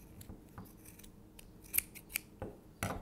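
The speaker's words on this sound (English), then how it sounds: "And we're just going to cut it off." Scissors snip through the yarn ends of a handmade sock creature, a few quiet, sharp close-up cuts and rustles at uneven intervals in an otherwise hushed room.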